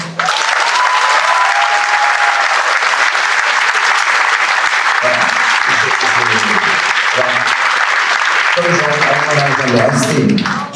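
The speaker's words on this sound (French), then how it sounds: "Donc on peut l'applaudir." Loud, sustained audience applause at a fashion designer runway show, dense clapping throughout with people talking underneath in the second half.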